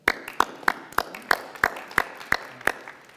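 A small group claps at a community awards ceremony honouring local heroes, with about nine sharp claps in a steady, evenly spaced rhythm. The clapping is sparse and distinct rather than a full wash of applause.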